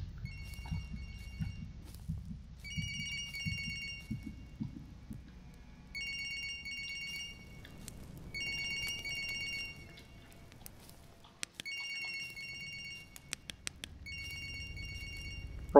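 Phone ringing in the indie horror game Siren Head: repeated bursts of a bright electronic ring pattern, each lasting about a second with short gaps, heard over low rumbling ambience and footstep-like thuds.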